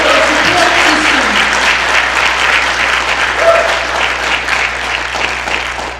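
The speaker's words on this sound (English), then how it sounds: "Round of applause for all of these amazing students and their wonderful support system." An audience gives sustained, loud applause for students at a twelfth academic awards night in a large hall. The dense clapping fills the whole stretch and eases slightly toward the end.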